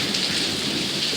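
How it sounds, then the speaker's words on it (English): Heavy monsoon rain pours down steadily and loudly, a dense continuous hiss of drops on surfaces with a low rumble of thunder beneath, filling the whole stretch with no voices. "It is raining outside."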